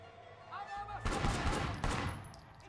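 Gunfire in the video game Sleeping Dogs: two short bursts of shots, moderately loud, with faint speech in the background.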